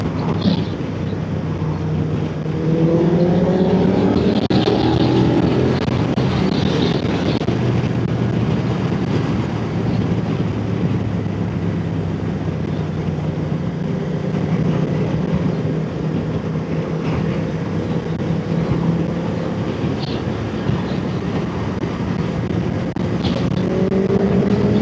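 Constant rushing road noise and wind from a BMW F900R motorcycle riding along a busy road, with passing traffic swelling faintly in and out.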